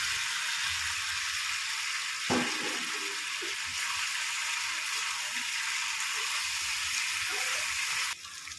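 Fried pumpkin pieces dropped into hot oil and cooked spice paste in a pan for a Bengali pumpkin curry, sizzling loudly and steadily, with a sudden hiss burst early and stirring scrapes, no talk.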